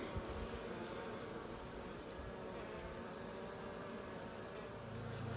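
Honey bees hum steadily around an open nucleus hive during a brood inspection, a soft continuous buzz under faint outdoor background noise.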